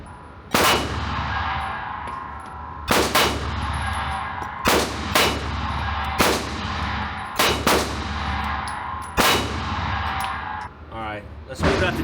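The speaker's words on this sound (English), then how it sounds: "First mag through the compact Echelon." Compact Echelon handgun fired at a target, about ten sharp, loud, close shots with a ringing tail, spaced irregularly, some in quick pairs.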